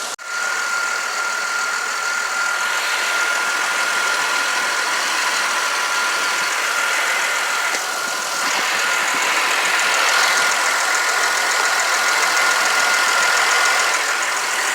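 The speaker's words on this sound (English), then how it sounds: "So the fans are on. They're blowing." Fans blow with a constant loud whooshing hum, joined by a steady tonal whine and a faint mechanical rattle, unbroken from start to finish.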